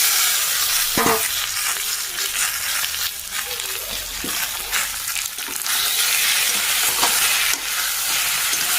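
Taro pieces sizzle and fry in a pan of hot oil while a spatula stirs and scrapes them in irregular strokes. The frying hiss runs steadily underneath and no one speaks.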